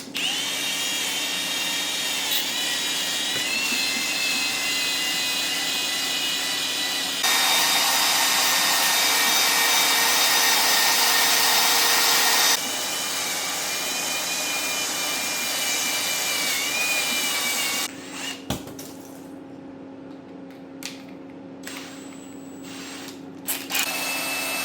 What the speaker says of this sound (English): So I'm just gonna wire wheel it real good